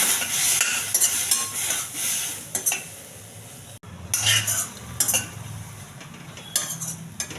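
A utensil scrapes and clinks against a pan while stirring a low-oil ridge gourd fry, with repeated close metallic strokes and a faint sizzle underneath.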